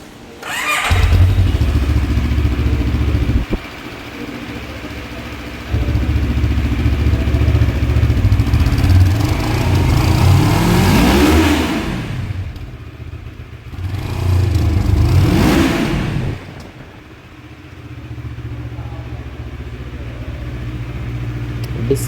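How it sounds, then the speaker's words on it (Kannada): A motorcycle at a Benelli, Keeway, QJ Motors, Moto Morini and Zontes showroom, fitted with Brembo brakes and 160/60 tyres. Close and loud, it idles, then gets revved several times, its exhaust note rising and falling, then settles back to a rumbling idle. "ಎಕ್ಸಾಸ್ಟ್ ನೋಟ್ ಈಗ ಕೇಳಿಸ್ತೀನಿ ನಿಮಗೆ"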